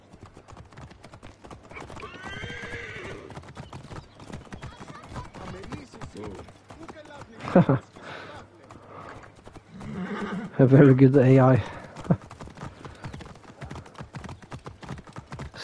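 Rapid rhythmic hoofbeats of a galloping horse in Assassin's Creed Origins run throughout, with a horse whinnying partway through and a voice speaking briefly over it.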